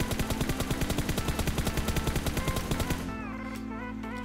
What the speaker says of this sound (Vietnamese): mình bây giờ mình sẽ bắn thử cho mọi người xem